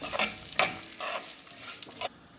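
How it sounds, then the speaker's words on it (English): Nuts and seeds roasting in ghee in a pan over a medium flame, a steady soft sizzle broken by several bright scraping stirs, close and moderately loud, ending abruptly. "add to the ghee all the nuts and the seeds and put the gas in a medium flame and roast it"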